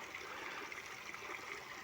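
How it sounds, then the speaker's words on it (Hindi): Water drains steadily from a biofloc fish tank, a constant soft rushing trickle with no breaks, quiet and close. "ये पानी ड्रेन हो रहा है"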